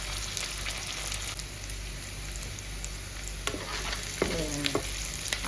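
Garlic, onions, green chilies and curry leaves frying in a pan for bottle gourd curry, a steady soft sizzle with a few spoon scrapes and clinks near the end.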